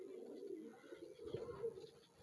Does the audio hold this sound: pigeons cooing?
yes